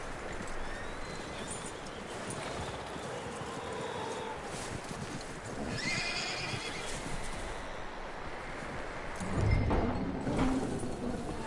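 In the game Red Dead Redemption 2, a horse whinnies outdoors, a faint cry over rustling and hoof clops, then a louder snort and stamp near the end.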